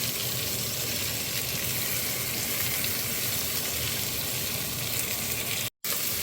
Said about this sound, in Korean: 계속 볶아주시면 돼요